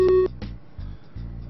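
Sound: telephone dialing in video game Maniac Mansion Deluxe

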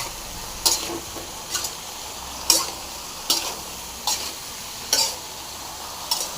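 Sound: stirring frying brinjal with chili powder

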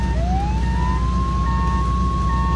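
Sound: ambulance siren in video game Flashing Lights

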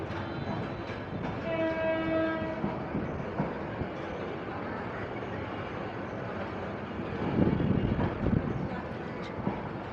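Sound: train passing with horn

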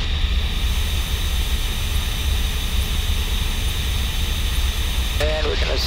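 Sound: Cessna 172N engine as power is pulled back to 1900 rpm

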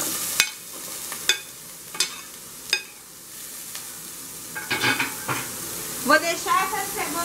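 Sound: onion frying in oil in a large pan

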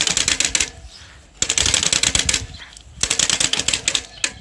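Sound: plastic card flapping in bicycle spokes

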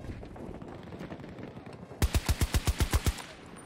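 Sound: BSVM gunfire in the video game Battlefield 2042

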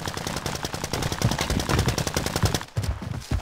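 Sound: gunfire from a video game, Plunder mode

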